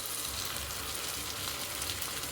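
Tomatoes fry in oil in a pan, giving a steady, close, even sizzle that holds without a break and has no talking over it.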